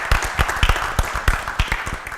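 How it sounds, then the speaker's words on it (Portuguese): An audience at a round-table television show claps in a steady, fairly close ripple of applause, individual hand claps standing out in a quick rhythm. "vamos aplaudir a nossa líder da nossa mesa redonda"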